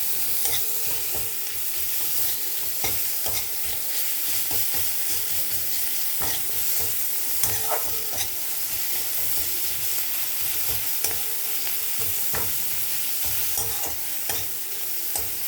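Sliced onions with grated ginger-garlic paste frying in a pan for egg curry, a steady close sizzle with frequent clinks and scrapes of a stirring spoon throughout, no talking.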